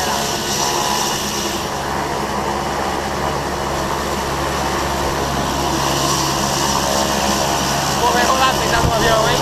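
A skydiving airplane's propeller engine drones steadily and loudly up close, a constant engine roar with faint voices mixed in.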